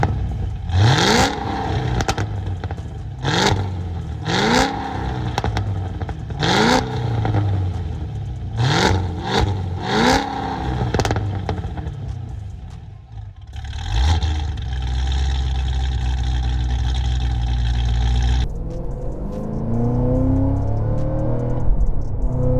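A 1000 hp Cadillac CT5-V Blackwing in track mode revs hard, its engine and exhaust rising in a series of sharp repeated blips, then holding a sustained deep roar before easing into a lower, rumbling climb.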